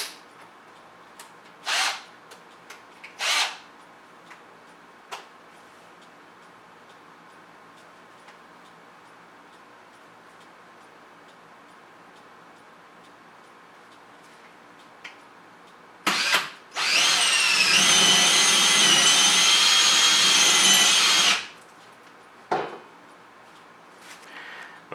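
Power drill driving a screw into a wall stud while mounting a TV: a few short ticking bursts, then one sustained whirring drive of about five seconds, close and loud, with brief blips after.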